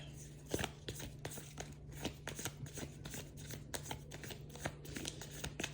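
Tarot cards being shuffled and drawn from a deck, a steady run of crisp riffling flicks and soft slaps close by, with a low steady hum underneath and no talk.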